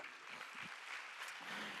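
A church congregation at a worship service claps, a dense, fairly faint patter of applause heard from some distance, with a few low voices murmuring beneath it.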